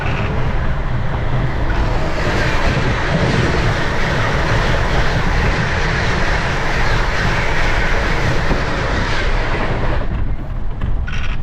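Steady rumble and rattle of a passenger train running, heard from inside a carriage during a long journey, with continuous wheel and track noise and a faint clickety-clack throughout.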